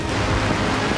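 Dense, hissing downpour of heavy rain, a constant loud wash of sound with no gaps and no voices.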